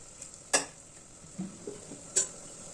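Soaked tamarind and dal water added to a tempering in a pan, a soft steady sizzle with stirring and two sharp clinks of a spoon against the pot.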